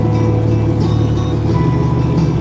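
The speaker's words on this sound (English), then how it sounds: "Truck's in regen right now, so it sounds a little different. The RPMs are up a little bit." A truck's diesel engine runs at raised RPM during a regeneration cycle, a loud steady drone with a low rumble and humming tones, continuous and close, with no talking.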